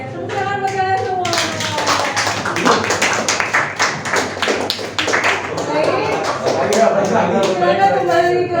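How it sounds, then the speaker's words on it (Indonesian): A group clapping hands in an indoor gathering, a dense steady patter of claps lasting several seconds, with voices and a rising cheer mixed in underneath. "tepuk tangan bagi kalian semua"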